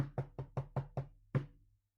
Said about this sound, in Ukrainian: За кілька хвилин знизу з кухні почувся гучний стукіт.